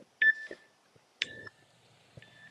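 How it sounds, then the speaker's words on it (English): An interval timer gives three short, clear electronic beeps about a second apart during an outdoor stretching routine, with a few faint soft knocks between them. "I got a timer here to keep me in line."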